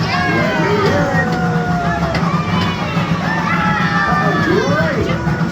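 Riders on the Kemah Boardwalk amusement train cheer and shout together, a dense, continuous roar of many excited voices including children, loud and close throughout.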